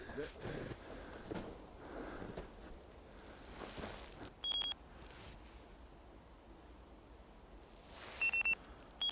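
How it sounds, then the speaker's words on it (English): Short electronic beeps from a radio transceiver picking up electronic interference sound in small clusters, twice, amid quiet rustling and muffled movement close by. "You can hear it beeping."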